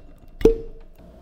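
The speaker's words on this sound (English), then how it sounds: "So let's pop this cork and get to pouring." Cork pulled from a bottle of Blood Oath Pact No. 8 bourbon: a single sharp, close pop followed by a brief ringing tone, then quiet.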